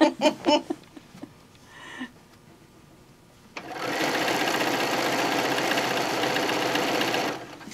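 A sewing machine stitches decorative feather stitches along a full skirt hem, starting after a few brief knocks and a pause, then running loud, fast and steady for several seconds before stopping; faint talk occurs at the start.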